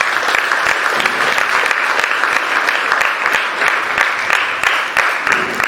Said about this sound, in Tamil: நாம் அனைவரும் கைத்தட்டி